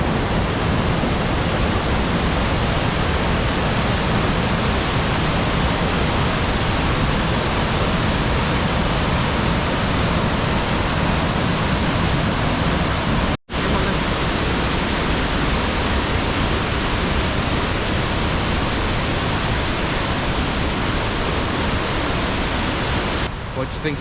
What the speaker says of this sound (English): What do you think of your waterfall then?